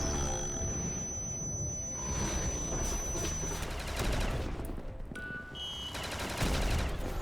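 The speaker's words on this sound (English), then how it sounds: "This RPK is definitely getting the job done though." Sustained RPK machine gun fire rattles in a Call of Duty custom zombies game, a dense continuous barrage mixed with zombie growls and game noise, loud throughout.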